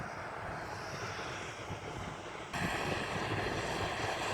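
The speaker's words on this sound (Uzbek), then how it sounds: "Mana bitta yana super jet chiqardi." A Superjet airliner takes off from the airport in Riga, its engines roaring steadily at middle distance, with the broad rumble swelling louder partway through and some wind noise on the microphone.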